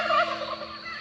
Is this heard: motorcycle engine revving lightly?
no